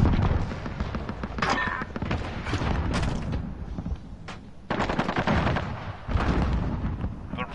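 A sentry gun firing in a multiplayer shooter video game, dense bursts of rapid gunfire and loud blasts crowding together with short lulls between them.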